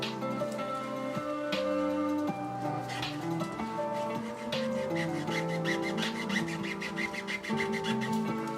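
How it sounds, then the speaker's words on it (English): Resin being sanded by hand produces a continuous close rasping rub through the whole stretch, with faster repeated strokes toward the end and a tonal hum underneath. "This resin sand's a little bit different compared to that other resin."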